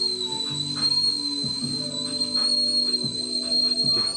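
A kettle boiling water for a French press lets out a loud, steady high whistle that holds throughout, over low background clatter and murmur.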